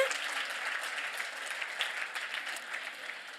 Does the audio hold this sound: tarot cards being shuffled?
no